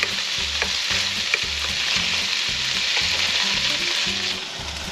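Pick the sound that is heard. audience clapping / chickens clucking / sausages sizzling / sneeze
sausages sizzling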